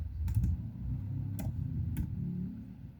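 A few sharp key clicks from a computer keyboard while a Java program is typed, two quick taps followed by isolated presses like the enter key, over a low steady background hum.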